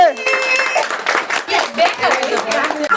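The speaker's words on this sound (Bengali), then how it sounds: "আমরা আমাদের দ্বিতীয় উইনার পেয়ে গেছি তার জন্য হাততালি হবে" A crowd claps for the second-place finisher of a samosa-eating contest, with scattered applause running under loud overlapping voices and cheering throughout.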